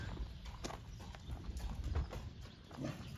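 A horse moving nearby, with hoof clops and snorting over a noisy outdoor background.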